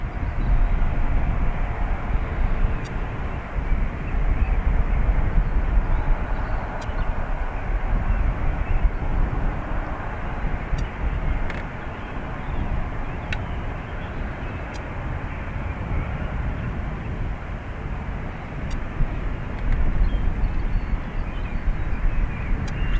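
A Ryanair jet takes off from runway 28 right at Dublin Airport, a loud, sustained broadband engine roar that holds steady throughout, swelling slightly near the end, with faint ticking in the background.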